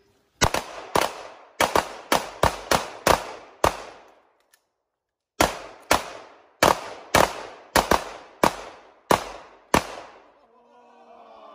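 Rapid handgun shots from a timed shooting competition ring out loud and close: a quick string of about eight sharp reports, a short pause, then a second string of around ten, with no talking.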